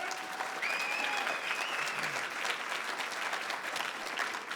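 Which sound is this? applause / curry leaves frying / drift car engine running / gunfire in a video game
applause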